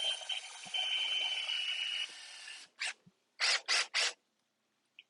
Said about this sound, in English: I'll go in about an inch, about all we need, and go ahead and drill your hole